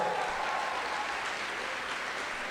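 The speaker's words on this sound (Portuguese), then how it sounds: "dá uma salva de palmas para o Senhor" A church congregation applauds in a dense, even wash of clapping that holds steady for a couple of seconds, heard without speech.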